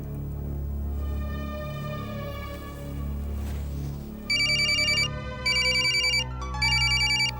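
A phone ringtone chimes in three bursts over a low musical hum, clear and fairly loud, with short gaps between rings.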